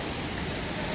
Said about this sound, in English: You can sit underneath the waterfall, take a look at it.